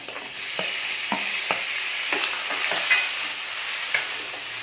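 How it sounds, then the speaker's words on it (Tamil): Onion, tomato and tamarind sautéing in a pan for onion chutney: a continuous soft sizzle punctuated by regular close spatula scrapes and taps against the pan. "இதை நல்லா வதக்கிக்கோங்க"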